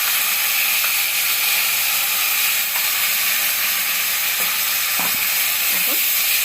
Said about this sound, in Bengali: এই যে পাবদা মাছের মশলাটা কষাচ্ছি